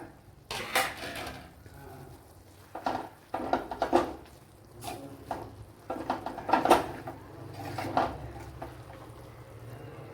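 Grated coconut is tossed into a fish and banana flower stir-fry in a pan. A spatula knocks and scrapes against the pan in uneven bursts of close metallic clatter, with quiet gaps between.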